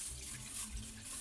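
Milk poured into about half a cup of water in a wok makes a short, faint, steady splashing trickle, heard alone.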